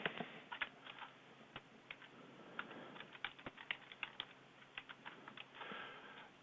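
A computer keyboard being typed on at close range, with quiet, irregular clicks and short bursts of keystrokes over several seconds and no talking.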